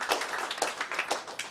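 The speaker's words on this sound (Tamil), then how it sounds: "எல்லாரும் அவங்களுக்கு மிகப்பெரிய கைத்தட்டல்" A small audience claps for an award recipient at a Thara Bharathi literary award ceremony, with a brief, light patter of hands that is not very loud.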